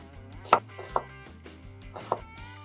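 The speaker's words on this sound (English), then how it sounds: "Just cut one up real quick." A knife chops an onion on a cutting board with a few sharp, separate knocks spread unevenly, close and moderately loud, over a low steady background hum.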